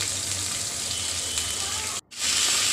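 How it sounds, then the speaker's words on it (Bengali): Meat frying in a pan hisses and sputters in a steady close sizzle that cuts out for a split second and then comes back louder. "মাংসটাকে ভেজে নিচ্ছি"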